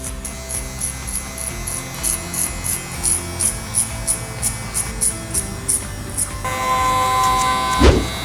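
Electric hair clippers fitted with a 0.5 guard buzz steadily through a barber's low fade, with rhythmic pulses as they pass through hair before the tone shifts near the end.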